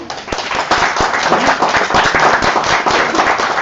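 An audience at a live group-discussion session claps for a speaker, a close, loud burst of many hands with some sharp individual claps standing out, sustained throughout.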